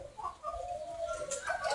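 Spotted doves cooing inside an aviary, soft low repeated coos with faint background noise and no talking.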